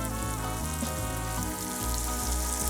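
Shallot, garlic and rosemary fry in a pan for Hasselback potatoes, giving a steady, dense sizzle and crackle that holds evenly for the whole stretch with no voices.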